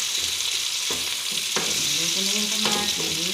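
Tomatoes frying in a pan for an ampalaya dish, a continuous close sizzle with a few scrapes and knocks of a utensil against the pan, no voices.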